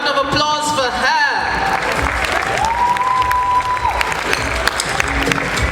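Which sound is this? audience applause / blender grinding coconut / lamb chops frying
audience applause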